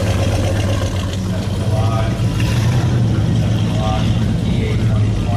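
Classic and concept cars, among them a 1932 Chrysler Imperial, roll past in a concours parade, engines rumbling steadily and loudly under constant crowd chatter and talk.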